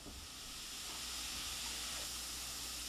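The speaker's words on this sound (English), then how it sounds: "Can you hear the Italian sausage sizzling?" Italian sausage sizzles in a pan, a steady, even hiss throughout, close and constant with no pauses or talk.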